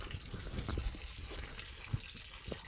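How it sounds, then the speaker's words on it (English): Coolant from the radiator reservoir of a 2006 BMW X5 draining in a steady, faint liquid trickle and gush, with light splashes now and then, quiet and continuous. "It's definitely draining the reservoir right now."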